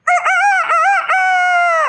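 A voice mimicking a rooster's crow, one loud, close cock-a-doodle-doo with a few rising, broken syllables ending in a long sustained tone, heard alone.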